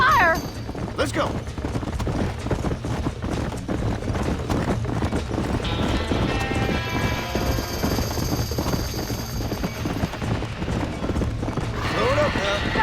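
Horses' hooves clatter amid a barn fire in the Red Dead Redemption video game, with steady clip-clop under shouting voices, a mechanical drone and sharp bursts of gunfire-like cracks throughout.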